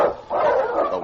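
Eskimo sled dogs, huskies, bark in a radio drama: a short burst of two close, loud yapping barks.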